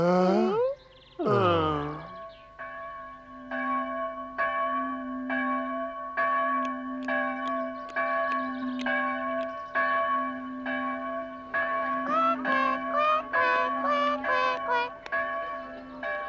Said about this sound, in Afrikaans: Die klokke lui daarbo, raai bietjie waarom hulle nou so lui?